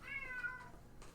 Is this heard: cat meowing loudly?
yes